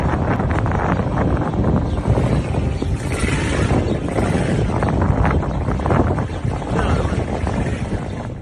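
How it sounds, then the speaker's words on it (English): Strong wind buffets the microphone in a steady, loud roar that rumbles and gusts throughout without letting up. "It's super windy"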